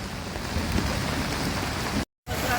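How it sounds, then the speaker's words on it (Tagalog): Heavy rain from Typhoon Carina combined with the southwest monsoon in Quezon City, a dense steady hiss of downpour on surfaces, continuous apart from a brief cut near the end. "Magkasamang bagyong Karina at Habagat."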